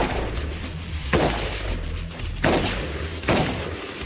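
Rifle fitted with a muzzle brake fired three times, each shot a sharp loud blast with a rumbling tail, spaced about a second apart outdoors.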